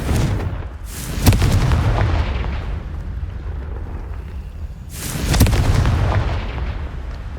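In the video game Hogwarts Legacy, the Confringo fire spell sets off two loud, booming explosions a few seconds apart, each with a rumbling tail, over steady game ambience.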